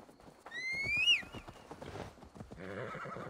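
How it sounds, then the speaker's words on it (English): In Assassin's Creed Valhalla, a horse lets out a loud, rising whinny, followed by a run of clip-clopping hooves close by. "Let me call my horsey."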